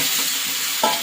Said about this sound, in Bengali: ভেজে নেবো, ভালো করে ভাজবো, ভেজে কষিয়ে নেবো আর কি